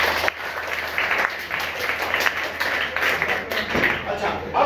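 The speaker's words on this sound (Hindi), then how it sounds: "एक बार ताली बजाओ धीरे धीरे" A classroom of schoolchildren claps together at a primary school in Mumbai, a crowd of small hands producing a steady patter of applause, with voices talking over it.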